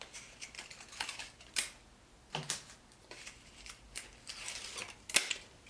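Double-sided tape handled near the mic while making a vision board, giving close, faint crackles, taps and brief peeling rustles in irregular bursts with no talking.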